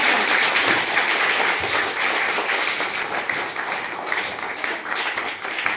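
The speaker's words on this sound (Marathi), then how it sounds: "तर या जोरात टाळ्या वाजवून स्वागत" Loud, sustained applause from a crowd welcoming guests at a special program at a primary school, dense and steady clapping throughout with a slight fade toward the end.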